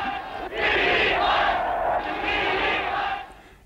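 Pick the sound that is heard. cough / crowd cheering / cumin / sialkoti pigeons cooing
crowd cheering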